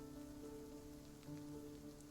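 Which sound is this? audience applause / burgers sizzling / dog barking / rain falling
rain falling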